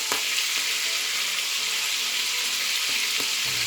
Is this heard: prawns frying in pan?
yes